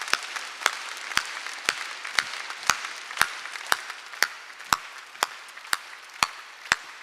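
Clapping at a Korean church Sunday worship service: steady, evenly spaced sharp claps, about two per second, keeping a regular beat with no talking over them.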